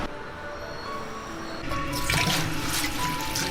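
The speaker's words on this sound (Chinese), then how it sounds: "摘好的通心菜，先给它清洗干净。" Running water splashing and trickling as picked water spinach is rinsed clean in a kitchen, a steady close wash that grows fuller and louder partway through.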